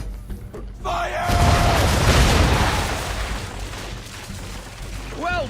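Heavy cannon broadside from a sailing warship in Assassin's Creed 3: a deep rolling boom swells after a shouted command and rumbles for several seconds, with voices calling out over it.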